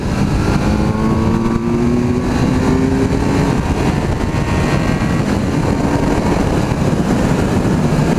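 A Kawasaki Z900 roadster motorcycle accelerates hard to overtake on the road, its engine roaring loud and close with rising pitch over constant wind rush. No voices are heard.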